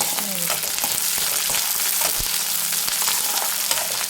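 Garlic and ginger frying in a pan with onion for paneer butter masala, a steady close sizzle with occasional stirring clinks and scrapes, no voices.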